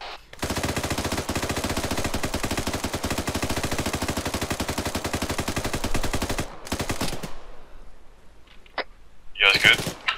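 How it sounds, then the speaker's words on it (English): Automatic weapon fire in the military shooter Arma 3 rattles in a long, rapid, loud burst for several seconds, then stops, followed by a couple of sharp isolated shots. "Shots fired."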